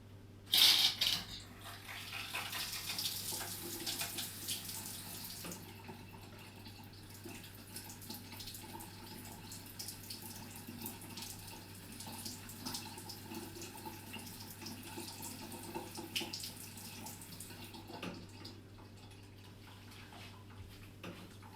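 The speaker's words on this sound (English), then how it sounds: "Looks like it's draining the way it's supposed to drain." Water drains steadily from a newly remodeled small bathroom's sink, a continuous gurgling wash that starts with a sharp splash and runs evenly throughout, close and moderately quiet, with no talk.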